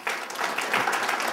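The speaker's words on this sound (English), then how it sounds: "Another round of applause, please," Audience applause following a talk on freedom of information and openness, a steady, dense wash of clapping that holds at an even level throughout.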